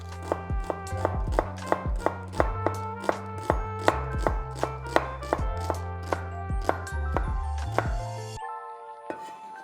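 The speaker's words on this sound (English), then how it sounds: "We are just going to peel it and then finally slice it." A knife slices through a peeled whole shallot on a board for Malaysian mee goreng, giving a steady run of sharp, close chopping taps in even rhythm over faint background music, ending abruptly.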